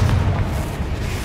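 Confringo blast spell in Hogwarts Legacy, a deep, booming burst of fiery explosion that fills the whole brief moment, loud and close with no voice over it.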